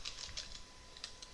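Quick, light keystrokes on a computer keyboard, about a dozen close soft clicks in an uneven run with no voices.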